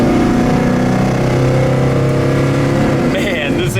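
A 1966 Chevelle RestoMod accelerates hard, its V8-style engine roaring loud and close throughout, with a voice briefly heard near the end.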